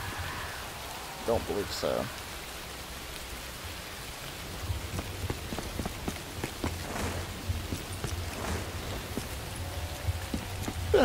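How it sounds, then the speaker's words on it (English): Steady rain from a swampy Call of Duty custom zombies map, a continuous hiss with patters of drops throughout, running under a man's occasional speech. "other than the rain issue, which may not bother some people, but it does bother me"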